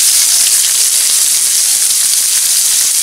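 Onions sizzling in hot oil with cumin seeds and curry leaves, a loud, steady, dense hiss that carries unbroken from start to finish with no voices.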